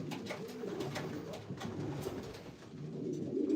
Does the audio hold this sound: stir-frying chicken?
no